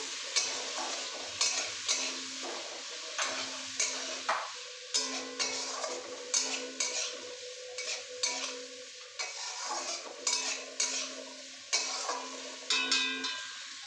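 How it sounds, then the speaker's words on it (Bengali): Chicken with turmeric is stirred in a hot pan, producing rhythmic scraping strokes of a utensil roughly every second over a light sizzle, close and without talk. "চিকেনটা হালকা ভাজা হয়ে গেছে।"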